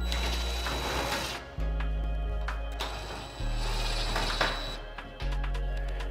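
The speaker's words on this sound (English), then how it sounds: "You're going to use two self-tapping metal screws to secure that probe into the actual pipe." Self-tapping metal screws driven into a metal vent pipe with a power driver, several bursts of whirring and grinding separated by short pauses, close and fairly loud.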